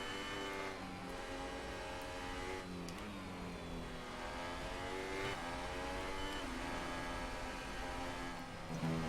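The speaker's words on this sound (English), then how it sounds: "Oh, nice double downshift." A Formula 1 car in the racing game F1 2018 drops two gears in quick succession, its engine note stepping down as revs climb and fall, loud and continuous from start to end with no talk.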